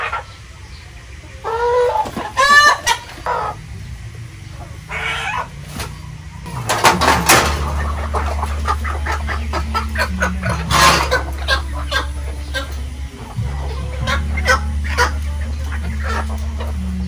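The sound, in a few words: chickens clucking while being bathed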